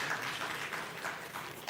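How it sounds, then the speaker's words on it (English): An audience at a national mining dialogue applauds the Gold Buyers Chamber CEO, a soft, steady patter of clapping that is fairly distant and diffuse throughout. "please a round of applause for him as he joins us here"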